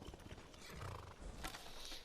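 Horse hooves clip-clopping with a whinny in the video game Skyrim, a steady trotting rhythm close by with a short neigh rising near the end, heard without talk.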